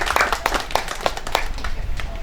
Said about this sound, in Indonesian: Tepuk tangan untuk Pak Kasbullah.